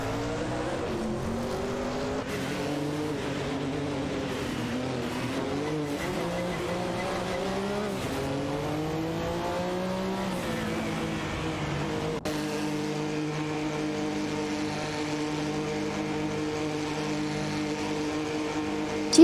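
A Mazda RX-7 IMSA GTO and a Lamborghini Diablo GTR race in a video game, their engines droning loudly and continuously, pitch rising and falling through gear changes with an abrupt shift midway.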